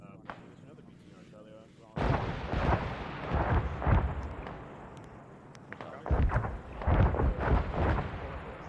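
A rocket explosion in an ARMA 3 military battle bursts in with a sudden heavy boom, its rumble rolling on, and then a second blast follows a few seconds later.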